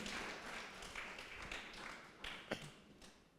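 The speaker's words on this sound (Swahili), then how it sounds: "Pigie Bwana Yesu makofi kwa ujumbe mkubwa" A church congregation claps for Jesus after a sermon, producing a soft, steady wash of applause with a few sharper hand claps standing out near the end.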